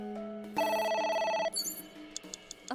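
A phone rings in the video game AI: The Somnium Files with a bright electronic warbling tone over a soft musical background, then the ring cuts off and quiet clicks and game sounds follow.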